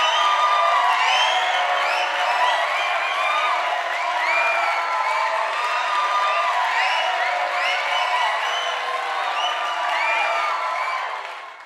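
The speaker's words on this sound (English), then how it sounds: "Round of applause for that." An audience cheers, whoops and applauds in a continuous, loud wash of crowd noise that holds for around eleven seconds before fading at the end.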